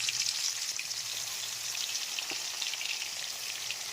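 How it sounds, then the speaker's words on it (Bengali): Marinated prawns frying in oil in a wok, giving a steady, even, hissing sizzle with fine crackle throughout and no talking. "এই চিংড়ি মাছগুলোকে এবার তেলের মধ্যে হালকা করে একটু ভেজে নেব"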